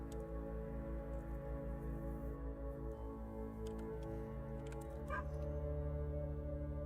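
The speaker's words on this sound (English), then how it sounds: "My dog's barking." A pet dog barks in a home, a steady run of barks sounding close and fairly loud over a constant background hum, with no talking in the room.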